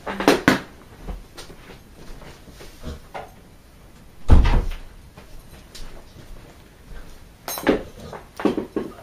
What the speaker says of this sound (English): Hold the phone, my door is open.